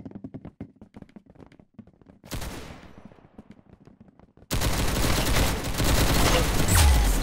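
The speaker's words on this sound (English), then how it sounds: "Very good shooting." Roblox Arsenal gunfire: scattered light taps and shots at first, then a dense, loud fusillade of rapid game gunfire filling the last few seconds.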